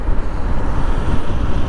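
A 115 cc motorcycle cruising steadily through city streets, its low continuous engine drone blended with heavy wind rumble buffeting the microphone, loud and unbroken for the whole moment.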